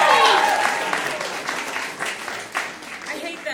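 A comedy-show audience bursts into applause that starts loud and then tapers into scattered claps for a few seconds.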